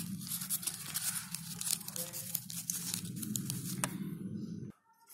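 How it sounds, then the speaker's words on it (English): Paper being folded and creased by hand for a children's craft, a close run of crinkling and rustling with sharp crisp snaps, ending abruptly in near silence. "I will show you how to fold. Like this you have to fold."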